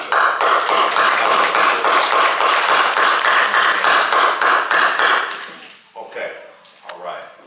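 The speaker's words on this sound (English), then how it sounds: "Let's clap it up for Will." An audience claps in sustained applause for several seconds, dense and steady, then it thins out into a few scattered claps and faint voices near the end.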